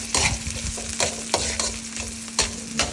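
Food stirred and tossed in a pan over medium heat, steady frying sizzle broken by repeated scraping strokes of a utensil, close and clear with no speech.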